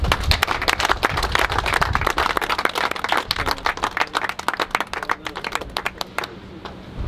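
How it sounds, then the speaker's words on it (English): A crowd applauds the workers at the lift and baptism of Interceptor 004, a plastic-collecting vessel. Brisk, sustained clapping thins out into scattered individual claps before trailing off. "So big hand of applause for everyone who worked in this."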